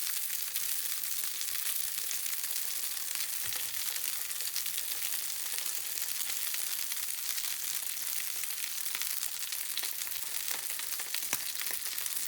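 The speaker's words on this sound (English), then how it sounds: "is just lay the steak right on in." A steak laid in a hot pan sizzles steadily, a constant hissing fry that holds even and fairly close throughout with no one talking.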